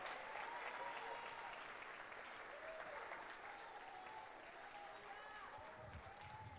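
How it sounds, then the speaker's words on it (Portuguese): Church congregation applauding steadily throughout, a dense sustained wash of clapping with a voice speaking over it at times. "Aplauda Ele."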